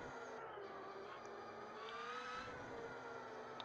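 An electric single-gear motorcycle in the racing game Ride 2 whines steadily at close range, a smooth, continuous high-pitched electric motor tone with slight pitch rises, heard alone without talk.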